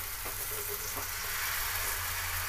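Radish-leaf chilla batter spread in sesame oil over a low flame gives a soft, even sizzle, quiet and steady throughout, with a low hum underneath.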